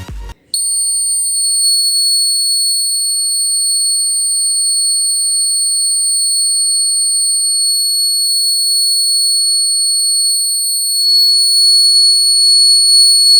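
Homemade fire alarm circuit gives a loud, steady, high-pitched electronic tone that starts abruptly after a brief click and holds unbroken, with no talk over it.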